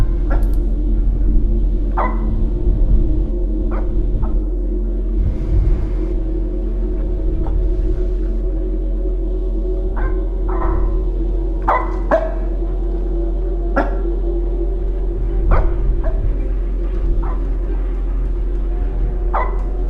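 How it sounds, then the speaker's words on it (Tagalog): A dog barks in a horror video game, giving scattered short barks and yips at irregular intervals over a steady low hum, fairly distant and without speech. "Asan yung aso kumakahol?"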